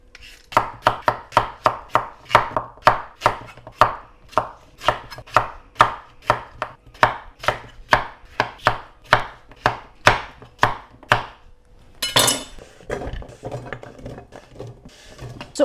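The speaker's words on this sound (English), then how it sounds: "I'm going to peel, chop, and then boil them until they are nice and soft." Red potatoes being chopped for boiling, a rapid run of about thirty sharp, close knife strikes on a board in a steady rhythm, followed by a brief clatter of the pieces being moved.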